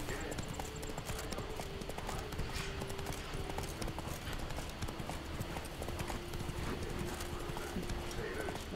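Hooves clip-clop in a steady, rhythmic stream as Roach is ridden in The Witcher 3: Wild Hunt, Blood and Wine. The hoofbeats stay close and even throughout, with faint voice-like sounds beneath them.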